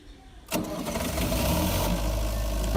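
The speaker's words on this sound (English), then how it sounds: "The engine has started." A diesel engine generator cranks and fires up abruptly after a quiet moment, then settles into a loud, steady rumbling idle close by.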